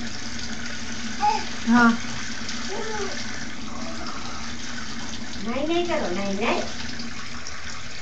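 Tap water runs steadily through a child's bath, a constant wash of noise beneath an adult's intermittent talking and a voice.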